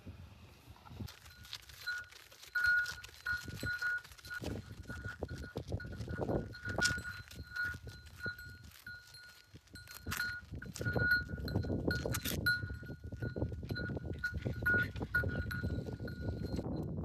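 Old cattle in a Tamil village being untied to go grazing: faint, scattered hoof clops and clinking bells with occasional animal calls, low and quiet throughout.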